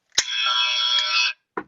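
A novelty joke buzzer gives one loud, harsh electronic buzz lasting just over a second, followed by a short clunk as it is set down.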